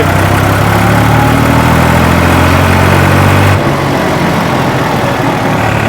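A New Holland 3630 Super Plus tractor engine runs loud and close with a steady, throaty drone, then drops in pitch and intensity partway through as the revs fall.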